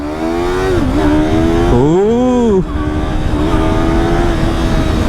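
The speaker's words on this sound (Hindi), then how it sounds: "सबसे पहले हम राइड कर रहे हैं यामाहा YZF R3 और थ्रॉटल देते हैं।" A Yamaha YZF R3 motorcycle revs under throttle, its engine note climbing and dropping between gears in a loud, close, rising-and-falling whine over about five seconds.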